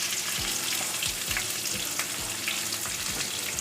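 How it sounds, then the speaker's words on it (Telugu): Spices, curry leaves and chopped green chillies sizzle steadily in hot oil for a gizzard fry, a continuous dense crackle with faint stirring knocks, close and alone without voices. "బాగా వేయించుకోవాలా, పచ్చివాసన పోయేంత వరకు ఉడకలు వచ్చామని వేయించుకోవాలా"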